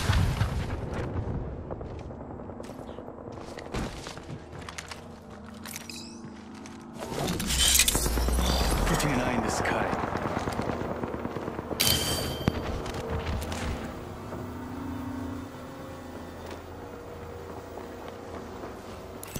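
Heavy gunfire and booming impacts in a video game match, a dense loud stretch of repeated shots and blasts mid-clip, with quieter scattered firing before and after.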